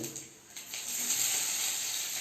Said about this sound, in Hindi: 5 फूरन का मैं तड़का दे रहा हूँ